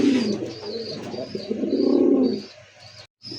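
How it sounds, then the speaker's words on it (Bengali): A yellow Bombay pigeon coos in a low, rolling series close by, with a faint higher chirping running above it before a short silence at the end. "এই মুহূর্তে দেখতে পাচ্ছেন ইয়েলো কালার একটা বোম্বাই কবুতর"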